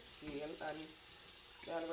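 Tap water runs steadily into a container in a kitchen sink while preparing red snapper, a soft continuous hiss with a voice talking briefly over it.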